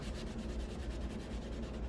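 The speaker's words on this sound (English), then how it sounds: "Rub in the center and work your way out." Glued paper is rubbed down onto a handmade journal cover by hand, giving a soft, continuous, close-up rubbing hiss with no talking.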